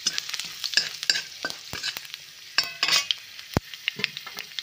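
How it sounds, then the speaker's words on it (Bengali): Garlic and black cumin (nigella seeds) sizzle in hot oil in a home kitchen while a spoon stirs, with scraping and light metal clinks over a steady close frying hiss and no talk. "রসুনটা একটু ভাজা ভাজা হয়েছে, এবারে কালো জিরে দিলাম"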